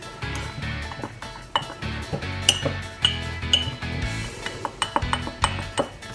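A spoon clinks and scrapes against the sides of a mug while stirring mug cake batter of flour, caster sugar and baking powder, with repeated close, bright taps at an uneven rhythm.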